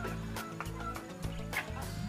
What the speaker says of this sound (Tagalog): manghuli tayo ng itik kasi kakatay tayo ng itik